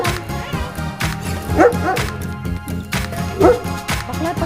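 A large dog barks near a hiking trail on the way to a beach, with two short bursts of deep barks about two seconds apart over a steady background.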